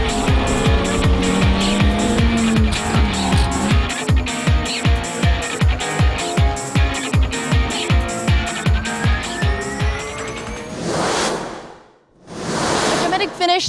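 An Audi R8 LMS race car spins after contact on the Shanghai circuit, its engine pulsing in rapid rhythmic bursts with squealing tires before the roar cuts out, then two loud whooshing passes close by.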